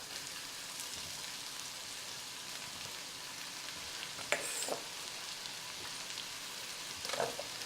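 Peppers and onions frying in a pan for chili give a steady, soft sizzle throughout, with a couple of brief louder clatters near the end.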